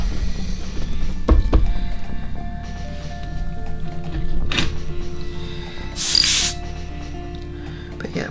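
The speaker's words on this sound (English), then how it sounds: "So we'll get on and spray this." Airbrush spraying paint at low pressure while painting a Blood Angel miniature red, heard as a short hissing burst near the end after quieter handling sounds and faint background tones.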